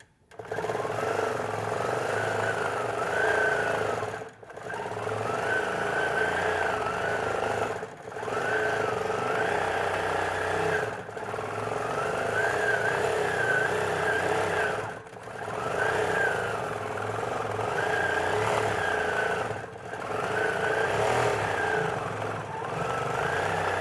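A sewing machine stitches a quilt with a glide foot, running in long steady bursts of fast, even whirring broken by brief pauses, loud and close throughout.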